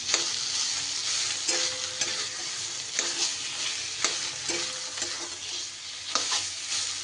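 Cabbage is stir-fried dry in a pan over high gas, with a steady close sizzle and repeated scraping stir strokes that land every second or so.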